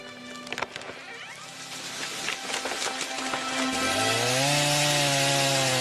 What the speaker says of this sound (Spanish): las motosierras emiten su característico ronroneo mecánico